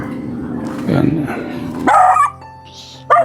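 An angry dog barks in short sharp bursts, close by, with someone talking over the start before the barks break in.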